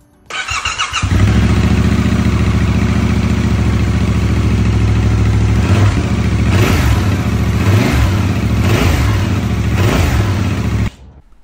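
A Yamaha R7 two-cylinder sport motorcycle with its stock exhaust starts up, idles loud and close, then is revved in several sharp blips before cutting off abruptly.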